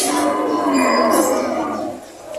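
A water buffalo in Padre Garcia, Batangas, lets out a long, loud, drawn-out moo that fades slightly toward the end.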